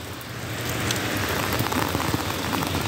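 Heavy rain from Hurricane Helene pours down steadily outdoors, a dense, loud, close hiss of drops hitting the ground with no letup and no voices.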